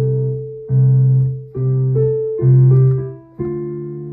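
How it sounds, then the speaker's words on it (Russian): A piano plays the bass line of Albinoni's original piece: a slow series of about five low, sustained notes struck one after another, each ringing and fading before the next, clear and alone without speech. "А басовая партия звучит вот так."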